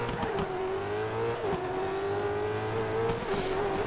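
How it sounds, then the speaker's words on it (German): A rally race car in DiRT 3 is driven at full throttle, its engine holding a loud, steady high drone. Brief gear-change dips and gravel rumble break in, with no talking. "Und jetzt Vollgas."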